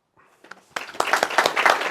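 Audience at a lecture bursting into applause, sparse claps at first and then swelling into steady, dense clapping from a room full of people.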